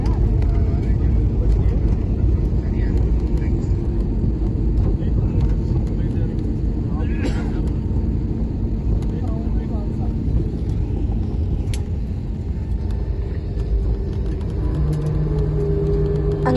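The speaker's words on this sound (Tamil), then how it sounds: "அப்படி தான் ஃப்ளைட்டை பிரேக் போடுவாங்க" Air India airliner braking after landing on the runway, with a steady loud rumble of engine and airflow filling the cabin, a broad roaring wash that eases slightly near the end while a voice talks over it.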